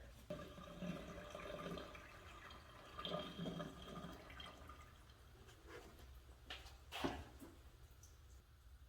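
Water poured into a leaking car radiator, faint splashing and trickling with intermittent drips and a sharper splash near the end, quiet and somewhat distant throughout.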